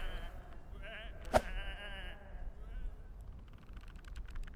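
Sheep bleat nearby, one sharp bleat standing out amid a few softer calls, with faint clicking and background ambience.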